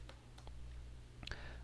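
Someone types on a computer keyboard: a few faint, sparse key clicks with a small cluster near the end, heard quietly against a low steady hum.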